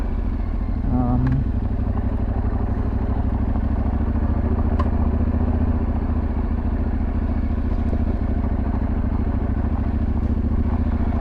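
A 2023 Yamaha Tenere 700 motorcycle rides off-road with a loud, steady engine drone that runs throughout, one short rising rev near the start and faint clatter over the rough ground.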